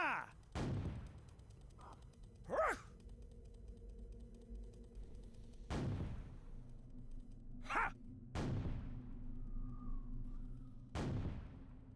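In the video game Sacred Gold, a musket and cannon-like blasts fire as sharp, booming shots at irregular intervals, about seven in all, each with a short decaying tail over quiet game ambience.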